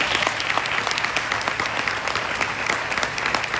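Applause from a crowd of students and families at a middle school moving up ceremony, a steady dense patter of many hands clapping throughout with no voices over it.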